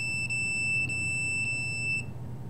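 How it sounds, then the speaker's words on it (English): A handheld detector beeps its alarm as it is pointed at the body. Four evenly spaced, shrill electronic beeps sound over a constant low hum. "and you get an alarm"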